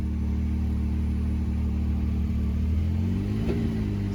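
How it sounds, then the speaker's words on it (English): A 2021 Can-Am Maverick Max RS Turbo RR side-by-side idles loudly with a steady low drone, then its engine pitch climbs as gas is given near the end, heard close and alone. "So give it a little bit of gas."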